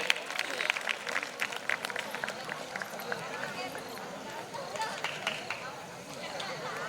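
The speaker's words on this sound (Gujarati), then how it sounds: "જોરદાર તાળીઓથી વધાવી લઈએ." An audience claps at a student award ceremony honouring the top three Standard 10 and 12 students at Vidyoday Vidya Sankul. Steady, dense applause from many hands continues throughout, with faint crowd voices mixed in.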